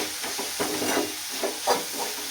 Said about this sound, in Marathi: आता तिखट आहे ते पण एकदम छान मिक्स करून घेतो.